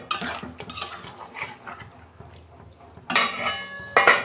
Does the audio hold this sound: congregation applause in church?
no